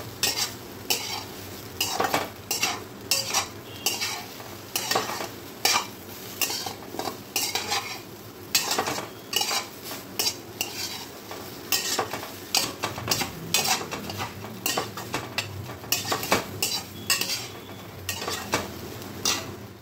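Fried medu vada pieces are sautéed dry in a pan, with a brisk, rhythmic scrape-and-clatter of a spatula stirring over a steady sizzle, close and continuous for the whole stretch with no talking.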